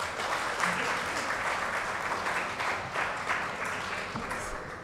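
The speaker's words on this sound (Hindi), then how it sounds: "कितनी कंजूसी करते हैं यार आप लोग ताली बजाने में।" An open mic crowd at the NTA Awards 2024 gives sustained applause after a poetry performance, a dense, even patter of many hands clapping with no speech.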